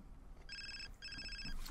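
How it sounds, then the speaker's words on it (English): Two bursts of an electronic phone ring in the life-simulation game The Sims 4, each short trill ringing clearly with a brief gap between, over faint background game sound. "Oh, we have a phone call."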